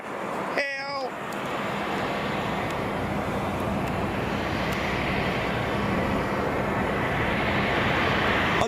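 An Aeromexico Boeing 737-8 jet roars steadily and loudly at Boeing Field, a broad continuous engine rush that holds without a break, with a brief bird chirp near the start.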